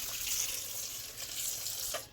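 Water pours in a steady rushing stream into a pan, close and fairly quiet, cutting off near the end.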